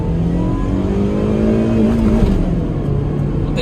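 Manual Suzuki Swift accelerating on a wet road, engine pitch climbing steadily through a gear before a brief drop at a shift, heard from inside the car, loud and continuous with no talk.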